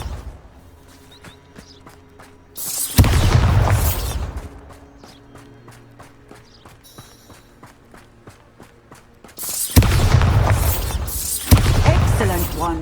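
Bombarda explosion spells cast in Hogwarts Legacy: two loud, booming blasts a few seconds apart, separated by quieter footsteps and game ambience, with no voices.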